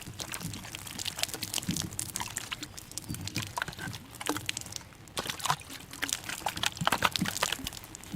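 A muddy Steyr M9A1 pistol is rinsed with sprayed water, making a continuous hissing, splattering trickle with irregular dribbles and drips, close and fairly steady throughout.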